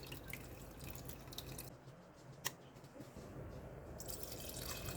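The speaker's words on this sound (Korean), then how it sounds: "육수를 망에 걸러 국에 넣습니다." Beef broth for yukgaejang poured through a mesh strainer into soup, a soft continuous trickle and splash of liquid with a single drip, close and fairly quiet.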